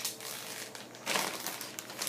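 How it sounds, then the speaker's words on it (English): A Ziploc plastic bag crinkles as it is sealed around a ball of homemade conductive dough. Handling produces close, continuous rustling and crackling, with a louder burst of crumpling partway through. "Take a Ziploc plastic bag, pop in the dough,"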